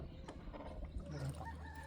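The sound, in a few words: chicken clucking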